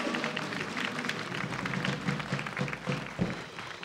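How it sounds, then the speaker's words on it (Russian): Studio audience applause on the Russian Lotto televised lottery game show, a continuous crowd of clapping hands at even volume, with a few sharper individual claps toward the end and no voices. "То вам аплодирует студия."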